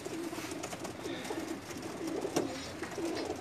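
Pigeons coo repeatedly in a rooftop loft, soft rhythmic calls overlapping at close range with light background noise and no talk.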